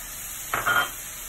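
Chopped onion hits a hot pan for lasagna filling with a short burst of sizzling that rises and fades within half a second against a steady background hum.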